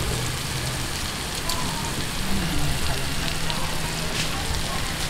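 Chicken intestines (isaw) fry in hot oil as a Filipino street food, a dense, steady hiss and crackle like heavy rain, close and continuous, with faint speech underneath.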